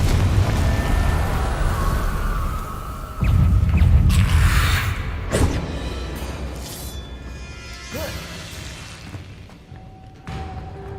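A Confringo blasting spell in the Hogwarts Legacy video game sets off a heavy explosive boom with a rumbling tail, followed by further thumps and crackling bursts that gradually die away.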